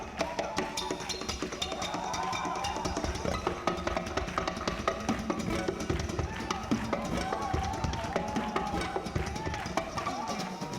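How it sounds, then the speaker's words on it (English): A concert audience in Seoul, Korea claps along in a steady rhythmic beat, heard somewhat distant and mixed with crowd noise and music. "The audience are clapping."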